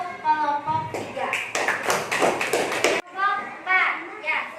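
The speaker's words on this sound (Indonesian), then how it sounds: "Tepuk tangan untuk kelompok 3." A classroom of children claps rapidly for their classmates' group for about two seconds, close and lively, with a voice speaking before and after.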